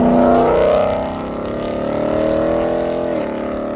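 Deep, rumbling V8 growl of a 2018-2023 Ford Mustang GT fitted with a Borla 2.5-inch cat-back exhaust, close and loud, rising and easing through a few revs with a steady harmonic drone and no talking.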